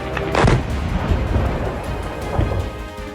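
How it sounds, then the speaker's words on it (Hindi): A loud booming blast as a drone strikes a building in Kazan, Russia, followed by rumbling and a second fainter thud, like a distant explosion echoing off buildings. "ड्रोन के बिल्डिंग से टकराने के बाद बड़ा धमाका होता हुआ भी आप देख सकते हैं"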